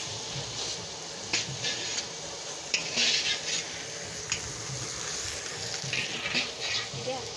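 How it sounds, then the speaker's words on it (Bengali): Ginger-cumin paste with green chilli and chilli powder frying in a pan for a large batch of khichuri at a festive gathering, a soft steady sizzle with occasional clanks and scrapes of a utensil, fairly faint. "মশলাটাকে ভালো করে ভেজে নিব"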